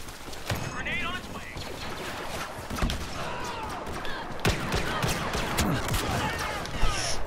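Gunfire in a shooting video game pops in sharp repeated bursts beneath a player's talk, with scattered louder single shots amid busy in-game noise.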